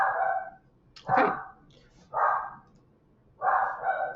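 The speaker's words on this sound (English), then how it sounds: "The dog is crazy." Dog barking in sharp bursts: several separate barks, close and loud, spaced out over a few seconds with quiet gaps between.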